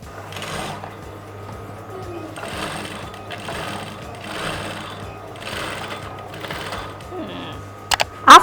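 An industrial sewing machine runs in short repeated bursts, each a fast rattling stitch lasting about a second, with brief pauses between runs and a steady low motor hum underneath.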